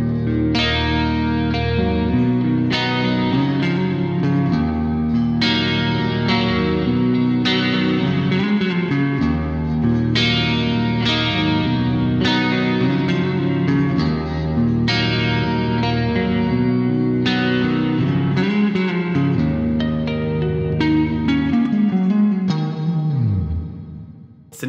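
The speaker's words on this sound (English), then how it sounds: "So now that reverb is big. It's now sitting at a level that you would expect when you crank a reverb to 90." Electric guitar played through a Boss GT-1000 multi-effects unit with reverb level at 90, sustained distorted chords ringing into a big, washy reverb tail, steady and loud throughout before fading at the end.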